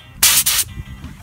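Paint sprayer with a 2.2 mm nozzle testing chalk paint onto a scrap of wood, two sharp loud hissing bursts of spray close to the microphone, followed by quieter background noise.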